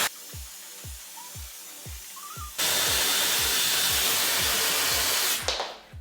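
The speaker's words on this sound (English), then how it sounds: "we're going to just give our hair a quick dry. We're going to focus on the roots. High heat, high speed." A Dyson Airwrap drying hair on high heat and high speed gives off a loud, steady close-up rushing hiss that starts partway through and cuts off near the end, above a low rhythmic thumping that repeats throughout.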